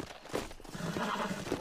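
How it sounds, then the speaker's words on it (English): A horse in the video game Red Dead Redemption neighs and whinnies amid a busy game soundscape, the call rising at close range, with hoof clip-clops mixed in for a brief moment. "It looks like the same horse every time."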